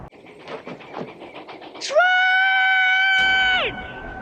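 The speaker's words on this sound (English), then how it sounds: "Train!" A train passes on railway tracks near an old flour mill ruin, its loud sustained horn-like tonal blast sounding for about two seconds after footsteps and rustling.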